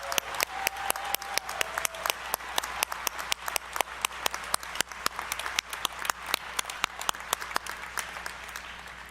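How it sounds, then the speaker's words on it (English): A graduation commencement audience claps continuously, dense and steady applause with sharp individual claps standing out near and far. "Let's give our candidates a round of applause."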